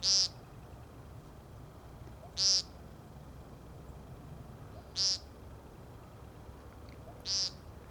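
A single American woodcock gives four short, nasal buzzy peent calls, evenly spaced a few seconds apart, loud and close against quiet outdoor background noise.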